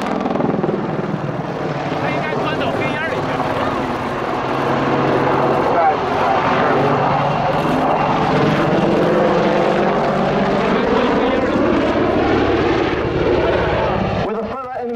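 An Apache attack helicopter flies a 270-degree wingover during a display at Yeovilton Air Day, its rotor and engine roar loud and continuous and shifting in pitch, with a commentator's voice over it.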